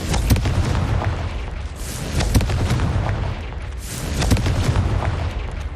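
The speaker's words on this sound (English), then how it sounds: "Expelliarmus! Confringo!" Repeated booming spell blasts in a Hogwarts Legacy goblin battle, loud bursts with rumbling low-end recurring every second or two over a dense, continuous game soundscape.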